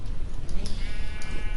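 Sheep in the Minecraft video game bleating in a quick, close series of wavering cries that fill the short moment, with no talk.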